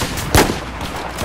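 A single sharp, heavy sniper rifle shot in the video game Battlefield 4 cracks loudly near the start, followed by a short rumbling tail over low background noise.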